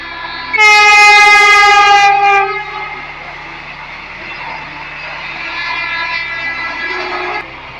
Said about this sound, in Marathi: हे बघा वंदे भारत ट्रेन